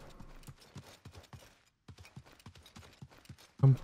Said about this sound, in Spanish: Voy a dar el lujo de irme en caballo